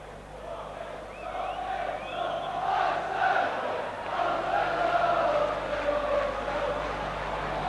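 A football crowd at Highbury stadium for a 1987 Arsenal v Derby County Division One match, a broad distant roar of many voices with rising shouts and whistles, steady throughout.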